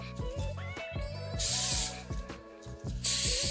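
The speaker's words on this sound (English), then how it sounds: "So I'm going to spray the side" Repeated short hissing bursts of spray hit the side of a chocolate mould, two long loud sprays among several brief ones, with clicks and ratcheting of the spray mechanism between them.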